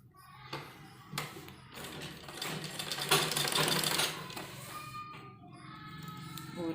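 A sewing machine runs a seam joining a kurta sleeve, its rapid whirring rising and falling in bursts with short pauses between them. Light background voices come through faintly.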